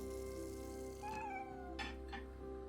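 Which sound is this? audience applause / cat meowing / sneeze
cat meowing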